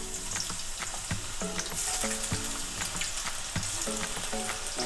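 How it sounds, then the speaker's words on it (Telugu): Potato strips for French fries deep frying in oil, a dense continuous bubbling sizzle up close, with soft musical tones playing underneath and no speech. "ఇప్పుడు వీటిని ఫ్రై చేసుకుందాము."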